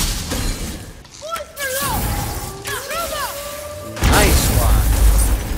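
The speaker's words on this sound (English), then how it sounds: "I will never get tired of shattering things with this." Objects shatter in God of War, with several sharp breaking crashes, whooshes and metallic ringing tones, then a loud burst of debris near the end; no talking over it.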